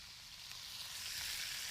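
Cabbage fries with bacon in a skillet, a faint, steady hissing sizzle that builds slightly over a couple of seconds, with no voices.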